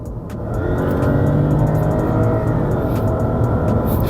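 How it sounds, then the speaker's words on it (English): A 2010 Lexus LS460 V8 revs steadily through its exhaust, a smooth, dense and continuous engine roar that swells in the first half second and then holds loud and even throughout. "when you rev this car hard, it feels and sounds really smooth due to its V8 engine"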